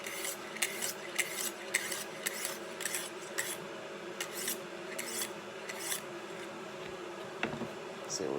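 A 440-series stainless steel kitchen knife is sharpened by hand in steady, repeated rasping strokes on a stone, close and alone, each stroke a short bright scrape in an even back-and-forth rhythm.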